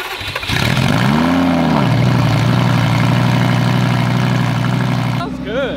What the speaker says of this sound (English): we're gonna cold start the Gallardo